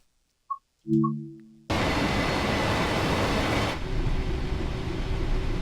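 Freightliner Class 66 freight train passing at West Thurrock, preceded by a couple of brief tones, then a sudden steady loud rush of rolling wagons and engine noise that continues to the end.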